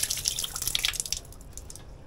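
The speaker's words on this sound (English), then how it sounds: "Rinse off my hand." Hands are rinsed under running water outdoors in Jamaica, with a close splashing patter that is busy at first and then thins to a softer trickle.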